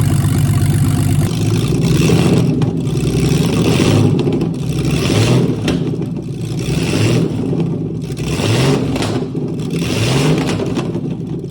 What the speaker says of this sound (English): Let's hear what this car sounds like open headers.